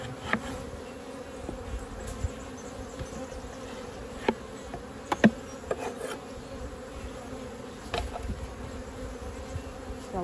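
Honeybees humming around an open hive at an Australian apiary, a dense continuous drone close by with occasional louder bees passing near, and no voices.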